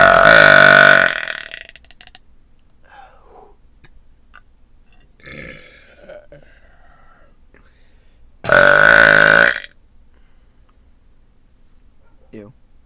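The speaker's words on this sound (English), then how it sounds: "Burped on my Chromebook." Two loud, prolonged burps from a person, one at the start and another about eight seconds later, with quiet background and faint murmuring between them.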